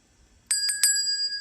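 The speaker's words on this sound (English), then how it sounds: "I'm going to ring my bell." A bright metallic bell is struck three quick times, close and clear, its ringing tone lingering after the strikes.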